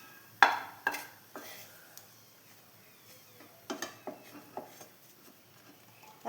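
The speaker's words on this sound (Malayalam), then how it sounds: "പഴം ഇനി ഒന്ന് നല്ലോണം നെയ്യിൻ്റെ അകത്തൊന്ന് വഴറ്റിയെടുക്കാം" Bananas stirred in hot ghee in a pan, with a sharp metal clank of the spoon on the pan followed by scattered scraping taps and a soft sizzle, fairly quiet and close.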